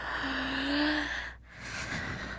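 A child actor in a radio drama yawns, a drawn-out breathy vocal with a rising then settling tone, heard close and alone against quiet studio air.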